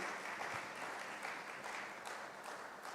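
Sustained applause from a sustainability conference audience, steady and fairly distant, a dense wash of clapping that barely varies in level.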